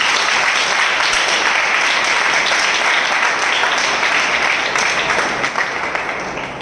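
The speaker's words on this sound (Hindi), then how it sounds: "हम जोरदार तालियों से उनका स्वागत करें" Loud, sustained applause from a large crowd at a religious gathering, dense and steady throughout before easing off slightly at the end.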